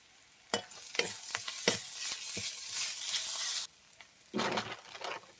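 Ground ginger, garlic and cumin paste sizzles loudly in a hot pan with stirring scrapes, a steady broad hiss broken by sharp clatters, dropping briefly near the end before surging back, with no talking.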